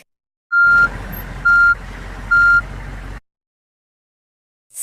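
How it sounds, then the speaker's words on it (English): A truck backs up over its engine rumble, sounding three loud, evenly spaced reversing beeps before the noise stops abruptly. "truck"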